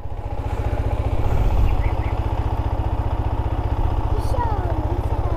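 A motorcycle engine idles close by with a steady, throbbing low rumble that holds even throughout, swelling slightly once early on, while faint voices sit underneath.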